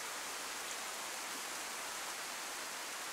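Rain falls at night in the DayZ video game as a continuous, even hiss. It is steady and soft throughout, with no talk over it.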